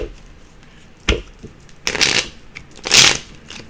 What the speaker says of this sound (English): Let's give it a shuffle here.